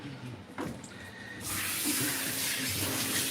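Running water rinses hair, starting as a quieter trickle and then swelling into a steady, close, full-bodied gush of spray.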